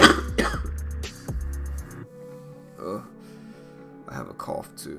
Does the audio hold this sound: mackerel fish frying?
no